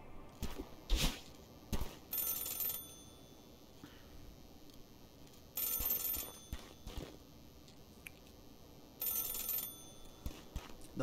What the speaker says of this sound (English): Phone. Pick it up.